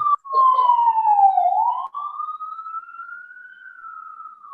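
A police siren wails, loud and close at first, sweeping down and then rising into a long sustained tone that fades slightly as it carries on alone.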